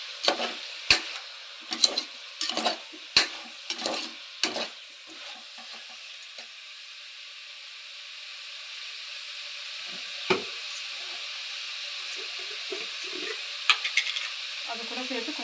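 Biryani masala being stirred into a frying pan, with several scraping strokes of a spoon in the first few seconds, then steady sizzling frying underneath and a few sparse later stirs.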